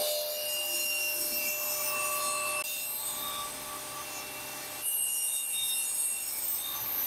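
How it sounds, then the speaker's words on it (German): Strips of wood are cut down to about 2-4 cm wide for a French cleat router holder, a steady, close rasping saw sound that stays loud throughout and briefly eases partway through before returning at full strength. "Die schneiden wir jetzt mal zu und dann werden wir jetzt nochmal 2 4 cm Streifen rausschneiden"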